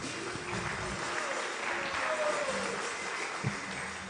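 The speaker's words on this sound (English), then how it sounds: "Let's give him a nice round of applause" Audience applause at a Sunday temple program at the New Jagannath Puri Temple in Phoenix, a steady broadband clapping that fills the room throughout, with some speech-like sound faintly mixed in.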